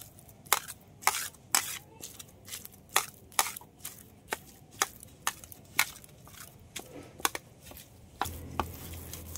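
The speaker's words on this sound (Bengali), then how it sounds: "আর এই ছানাটা কিন্তু একটু এরকমভাবে নরম করে মেখে নিতে হবে।" Fresh chhana cheese kneaded by hand on a plate gives a steady series of soft, wet pressing and squishing pats, close up and repeating roughly twice a second, with no talk.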